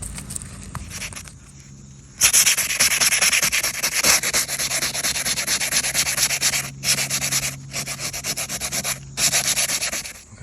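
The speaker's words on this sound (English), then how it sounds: "Do a little bit more sanding. So 100 grit sandpaper." Sandpaper, 100 grit, scrapes back and forth across a stucco patch on a house wall in long rasping strokes, close and loud, with a few short pauses between passes.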